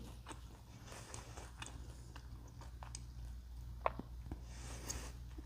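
Crisp mozzarella cheese waffles being bitten and chewed up close, soft irregular crunches repeating over about five seconds against a low steady hum, no talk.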